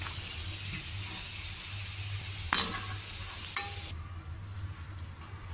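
Roasted gram (putnalu) frying in a spoonful of oil in a pan for a tea snack, a steady close sizzle with a few sharp stirring scrapes and clinks, no talking.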